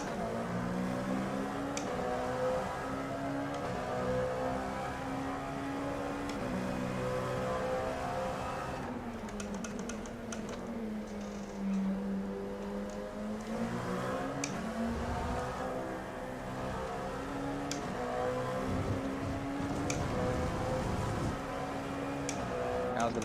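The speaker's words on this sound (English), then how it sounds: "LMP coming up behind you." LMP prototype race car in the iRacing sim during a 24-hour race at Hockenheim, a steady loud engine drone with rising and falling revs and pitch sweeps through gear changes, continuous throughout with occasional ticks.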